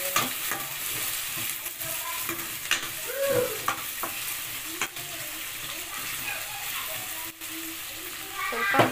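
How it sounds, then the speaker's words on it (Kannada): Vegetables are stir-fried in a pan at home, a soft continuous sizzle under scattered scrapes and clinks of a spoon, moderately quiet and close, with a few faint background sounds. "ನಾನು ಇದನ್ನೆಲ್ಲ ಚೆನ್ನಾಗಿ ಫ್ರೈ ಮಾಡ್ಕೊಳ್ತಾ ಇದ್ದೀನಿ"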